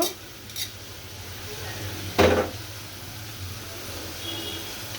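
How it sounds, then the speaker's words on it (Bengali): Chopped onion fries lightly in a pan with a soft, steady sizzle, broken by a few sharp clinks of a utensil against the pan. "পেঁয়াজটা আমি হালকা একটু ভেজে নিব"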